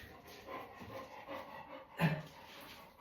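Dogs pant softly indoors with occasional faint whimpers, and a sharper burst of sound comes about two thirds of the way through.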